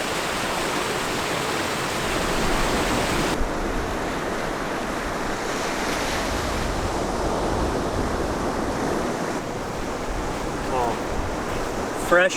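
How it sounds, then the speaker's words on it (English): A river on Vancouver Island rushes loudly and continuously nearby, a full, even roar that stays steady throughout with no pauses. "Oh, fresh river water."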